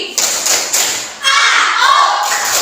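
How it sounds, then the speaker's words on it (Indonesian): Fourth-grade pupils in a classroom clap through a concentration routine. Loud rhythmic claps and thumps come in short bursts, then young voices chant together alongside the clapping. "Tepuk konsentrasi."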